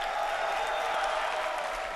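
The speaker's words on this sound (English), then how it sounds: "give a cheer for LiquidJinro" A large crowd cheers and applauds at the MLG Dallas 2010 esports finals, a steady wall of roaring noise that fills the hall without a break.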